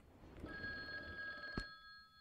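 A telephone rings in a horror video game, one steady electronic ring sounding over a low murky ambient background.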